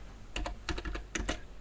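Fingers type on a computer keyboard in short irregular clusters of clicky keystrokes, close and moderately quiet, with no speech.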